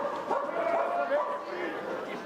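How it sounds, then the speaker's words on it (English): Dogs bark in the stands at a college baseball game on Bark at the Park Day, short, fairly distant yips and barks under a play-by-play voice. "Got some dogs coming into the ballpark. I can hear them down there."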